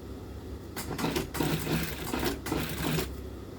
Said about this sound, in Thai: เราเย็บนะคะ เราก็จะเย็บที่ตะเข็บเดิมนะคะ